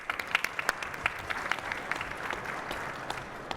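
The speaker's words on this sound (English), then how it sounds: "I would like to do a round of applause for John for excellent moderation" Conference audience applauding a moderator at a state transportation roundtable, a moderate patter of claps heard at some distance, steady for a few seconds.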